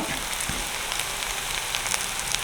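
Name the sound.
fenugreek seeds frying in oil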